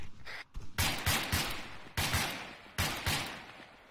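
Bursts of gunfire in the ArmA 3 video game, a rapid fusillade of sharp shots that repeats in several strong volleys, loud and close with echoing tails and no talk.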